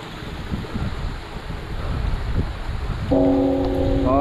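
Strong wind roars steadily over the microphone during a rainy motorcycle ride, loud and continuous, with a tonal horn-like hum joining near the end.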